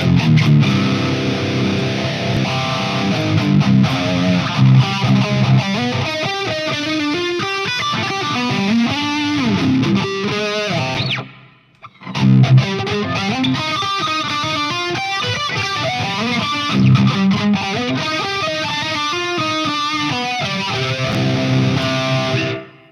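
Distorted electric guitar played through an EVH 5150 Stealth amp with plate reverb, a loud, dense riff that drops out for a brief pause midway and then resumes with full, sustained chords and melodic lines.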